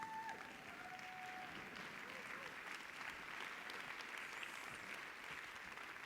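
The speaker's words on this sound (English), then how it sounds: "give a massive round of applause for the EMC2023 team" A large conference audience applauds the event team at EMC2023, a steady, dense roar of clapping filling the hall from start to finish, with a few faint voices and cheers mixed in.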